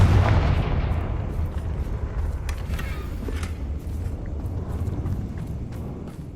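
A Confringo blasting spell goes off in Hogwarts Legacy, a loud booming burst at the start that rolls away into crackling, rumbling combat noise with scattered sharp hits and no speech.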